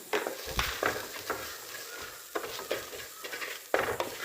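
Coriander and turmeric powder are stirred in a hot pan for a fish curry, giving soft, close scraping strokes every half second or so over a low sizzle; no talk.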